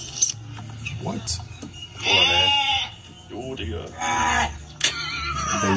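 Sheep bleat in several loud, wavering cries, one near the start and others spaced through the passage, over livestock noise and some background chatter.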